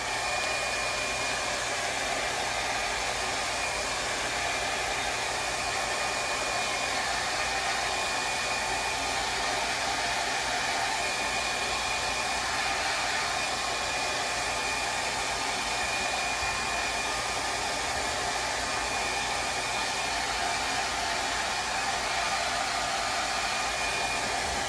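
Steady, loud hair dryer blowing continuously at close range for the whole stretch, drying metallic paint on a decoupaged vintage cigar box, with no voices.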